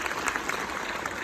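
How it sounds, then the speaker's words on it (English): Audience applause fills a convention panel hall at Comic Con Liverpool, dense and steady clapping from a crowd at close range, running without a break. "Give a round of applause."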